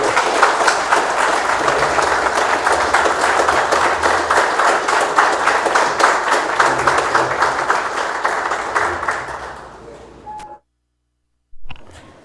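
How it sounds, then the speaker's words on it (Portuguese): An audience at a solemn session of a legislative chamber claps in a sustained, rhythmic round of applause that fades away, followed by a short silence and a brief return of sound. "eu gostaria também de pedir uma salva de palmas para o senhor"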